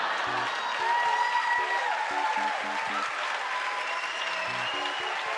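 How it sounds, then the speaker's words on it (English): A stand-up comedy audience claps and cheers in a dense, sustained burst of applause that fills the hall at a steady level throughout. "the audience only laughed for like a millisecond before just clapping and cheering"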